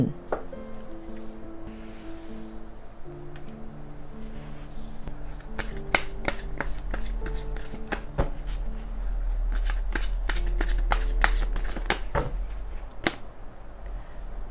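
Tarot cards are shuffled close up in quick, crisp riffles and snaps that grow busier over soft, tonal background music.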